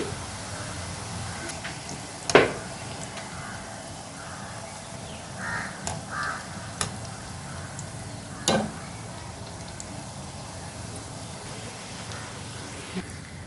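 Murukku deep-frying in oil gives a soft, steady sizzle that has nearly died down, with a few sharp clicks and taps from utensils scattered through it.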